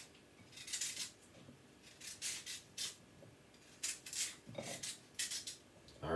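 A kitchen knife scrapes skin off a carrot in short rasping strokes, a series of bright scratchy bursts separated by brief pauses, close and quiet.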